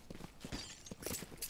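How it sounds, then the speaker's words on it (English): Glass shatters in the game Valorant during a competitive round, a short bright crash with a couple of sharp bursts over a steady bed of game noise. "one just broke the glass."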